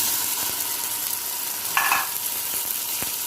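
Chopped onions drop into hot oil for a beef kofte curry, setting off a steady, close frying hiss that swells into a brief, louder sizzling burst midway before settling back.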